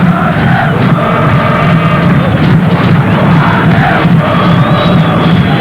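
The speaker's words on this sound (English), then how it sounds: "The crowd just becoming a little impatient that Brazil haven't added to their first half total." Stadium crowd at a Brazil versus Venezuela World Cup qualifier football match for Italia 1990, a loud, continuous roar of chanting and shouting voices filling the air throughout with no break.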